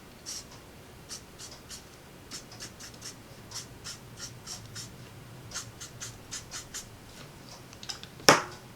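Alcohol marker dragged across paper in short, quiet streaks, a steady series of soft scratchy strokes with a sharper scrape near the end, close and alone.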